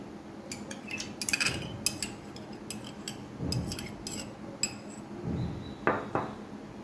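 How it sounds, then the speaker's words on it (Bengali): Eggs being stirred into a sweet mango pudding mixture in a bowl, with a series of light clinks and taps of a utensil against the dish and soft swishing between them, close and quiet, with no talk. "ডিমটা দিয়ে এটা আগে একটু নেড়ে, ডিমটা যেন ফেটে যায়"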